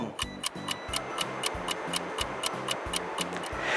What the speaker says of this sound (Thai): เสียงของเข็มนาฬิกาที่กำลังเดินเป็นวงกลม